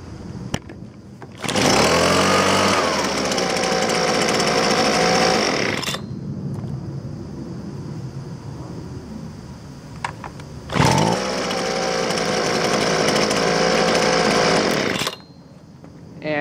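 A Husqvarna 125B two-stroke leaf blower is warm-started twice, each pull bringing a loud, close, high-revving roar that holds for several seconds, with a quieter idle and faint clicks between the two runs.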